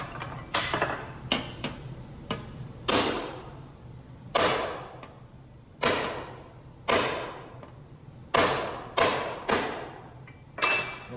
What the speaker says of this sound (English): When you're hammering on it, you can really get in there